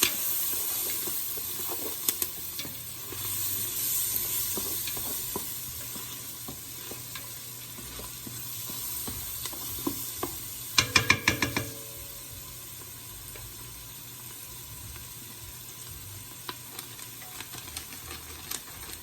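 Onions sizzling in a pan for a veggie gumbo, with steady frying hiss and a few clinks and scrapes of stirring, a brief cluster of sharper utensil taps midway, no talking.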